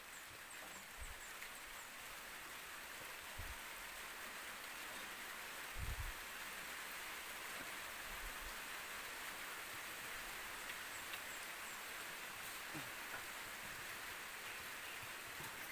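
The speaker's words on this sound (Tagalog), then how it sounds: "Lakas ng ulan." Steady, dense rain hiss fills the whole stretch, with a few low thuds of drops or knocks here and there; no voices.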